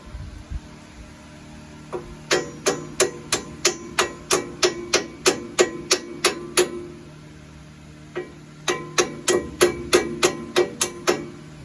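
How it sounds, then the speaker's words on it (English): Sharp metallic hammer taps on an off-road truck's front suspension strike in quick, even runs, a long series, a brief pause, then another burst, ringing brightly and close with no one talking. "I'm going to give a little tap with a hammer"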